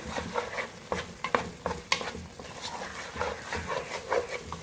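Chana dal halwa being stirred in a pan, with repeated scraping and clinking strokes of the spoon over a low sizzle, close and moderately quiet, no talking.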